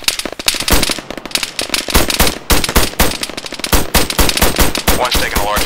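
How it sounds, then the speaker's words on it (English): Heavy automatic gunfire rattles in a forest battle in Arma 3, with dense overlapping bursts and single cracks filling the whole stretch, loud and close, no talking. "One's taking a large volume of fire from 330"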